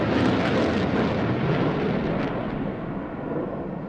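RAF Typhoon jet performing derry turns at the Eastbourne 2014 air display, a loud broad roar sweeping overhead and slowly fading as it moves away.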